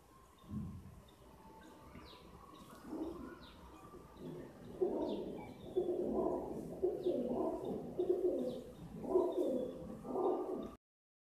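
Pigeons coo repeatedly in a soft, rolling rhythm, several close, low calls overlapping over about ten seconds, with faint higher chirps in the background and no talking.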